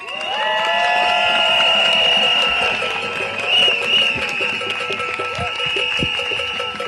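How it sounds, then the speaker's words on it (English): Cheering, whooping and applause from a large outdoor protest crowd in Washington DC, loud and sustained across the whole stretch, peaking early and staying dense, with scattered shouts and no clear speech on top. "give another round of applause for our Reverend Graham Hadley"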